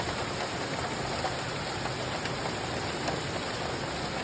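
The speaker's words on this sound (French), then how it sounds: "Même si là, pour le coup, c'est une grosse pluie." Heavy rain pours steadily in Seine-Saint-Denis, France, a dense, even hiss of countless drops with no pauses.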